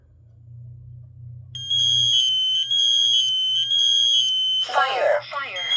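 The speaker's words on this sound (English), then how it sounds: "next alarm we're going to test is the Kidde KN-COSM-IBA" A Kidde KN-COSM-IBA combination smoke and carbon monoxide alarm sounds during a test. A low hum gives way to a loud, piercing pulsed tone, then the alarm's own recorded voice announces a warning.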